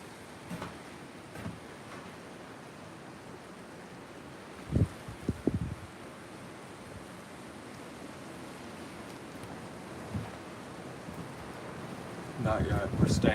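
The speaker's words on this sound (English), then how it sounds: "Nothing's stopping the wind out there." Blizzard wind in North Dakota roars steadily outdoors as a constant broadband rush, with a few brief knocks and gusts, louder buffeting near the end, and occasional voices in the background.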